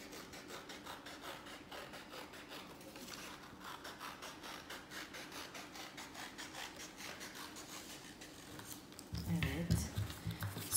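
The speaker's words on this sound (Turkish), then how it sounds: "Önce bu yarım daire şeklinde görünen kalıbımızı kesiyorum." Scissors snip through a paper half-circle template for a kindergarten bear craft, a steady close run of rubbing, rasping cuts that grow louder and heavier near the end, with no talking over it.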